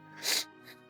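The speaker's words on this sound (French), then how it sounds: "Attendez, je dois éternuer." A single sharp sneeze bursts out close to the microphone, followed by a softer breathy exhale.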